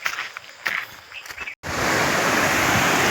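A swollen hill river, the Jirmale Khola, rushes loudly in the rainy season after a soft outdoor stretch with faint footsteps, then a broad steady roar of water fills the rest.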